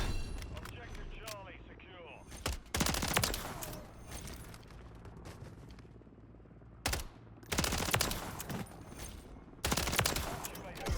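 Automatic bursts of MTZ 556 rifle fire in the Modern Warfare 3 video game, several loud volleys separated by pauses, with a player talking over much of it.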